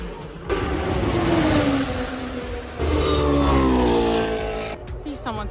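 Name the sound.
Formula 1 cars passing at Spa-Francorchamps during qualifying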